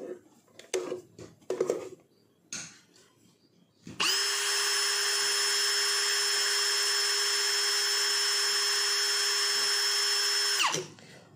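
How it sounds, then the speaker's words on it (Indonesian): A few handling clicks and knocks, then a single-speed DCA cordless brushless drill spins up and runs at one steady high-pitched whine, about 1281 RPM, for about seven seconds before stopping. "Berikutnya kita akan uji RPM dari bor ini ya."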